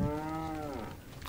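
A single drawn-out cow moo from the Resident Evil 4 village, loud and close, falling slightly in pitch before trailing off, heard alone without talk.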